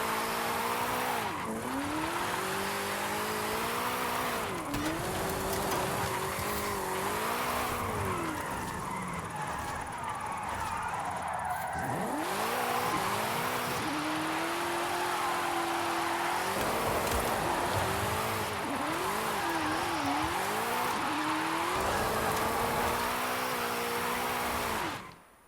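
A car drifting in the racing game Forza Horizon 4, its engine revving and wailing up and down through repeated sweeps while tyres squeal and skid continuously, loud and close throughout.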